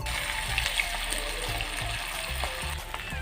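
Marinated beef fries in hot oil in a pan with a dense, bright sizzle and crackle, close up, with a few soft knocks and clinks of the pan underneath and no talking.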